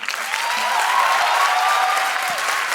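An audience at a debate competition applauds a finished speech, a dense, steady wash of clapping that stays even and fairly loud throughout.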